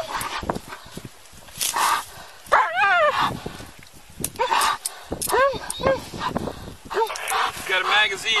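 A police K9 barks in short bursts during an arrest after a vehicle pursuit, its yips and whines sitting under and between loud shouted commands from an officer close by.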